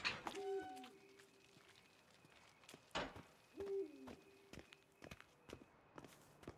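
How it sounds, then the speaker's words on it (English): Owls hooting twice in The Witcher 3, each a short low hoot among faint footsteps and scattered clicks in a quiet night setting. "Here's some owls hooting."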